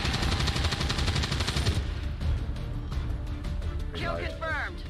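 Rapid bursts of gunfire in the video game XCOM 2, dense repeated shots dominating the first two seconds, then sparser cracks as a voice speaks over the mix.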